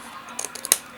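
Scissors snipping along a line through a paper travelers notebook insert, a few quick crisp cuts in close succession ending in one sharper snip, close and alone.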